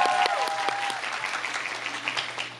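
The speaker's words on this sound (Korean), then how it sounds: "나가는 찬호한테 박수 해주세요." A concert audience applauds as a performer leaves the stage, a moderately distant, steady patter of clapping with a few brief tones at the start.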